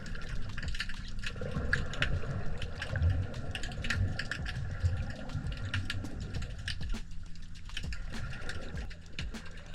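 Underwater ambience in an open sandy clearing of a kelp forest bay, full of dense crackling and snapping pops scattered throughout, steady and moderately loud with a low murky rumble beneath.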